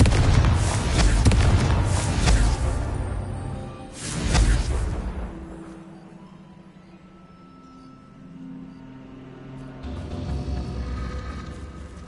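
Confringo blasting spell explosions in a magic video game, two loud booming bursts early on followed by a rumbling fade and another swell of blast noise near the end.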